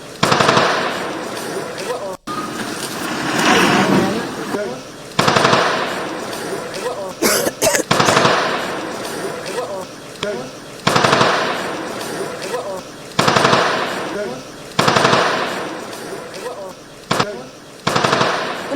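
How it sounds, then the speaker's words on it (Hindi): Continuous bursts of automatic gunfire echo through the Tral valley during an army encounter operation, loud rattling volleys repeating at irregular intervals with short lulls between them. "लगातार फायरिंग की आवाज इस वक्त आपको वैली में सुनाई दे रही है।"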